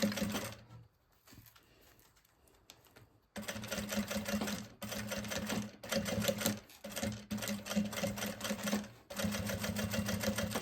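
A sewing machine stitches synthetic fabric for a maternity bag in fast, close mechanical bursts of rattling, broken by brief pauses and one longer quiet stretch near the start.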